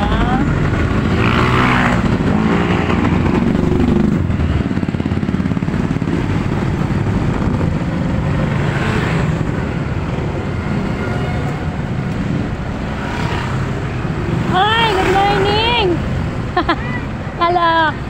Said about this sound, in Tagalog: Nakapagso traffic na naman ang aga-aga.